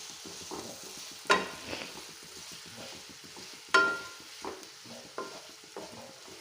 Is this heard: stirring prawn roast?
yes